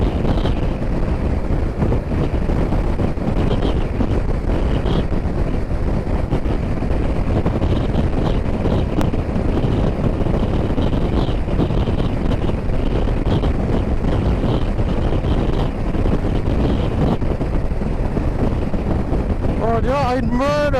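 Strong wind buffets the microphone continuously with a loud, rough roar on Scotland's north coast in the mountains, and a voice is briefly heard near the end.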